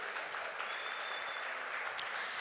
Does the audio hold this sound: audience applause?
yes